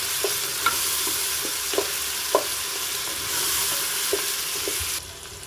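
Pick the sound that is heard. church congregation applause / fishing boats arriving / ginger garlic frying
ginger garlic frying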